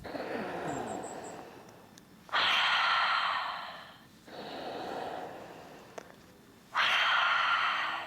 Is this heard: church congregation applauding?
no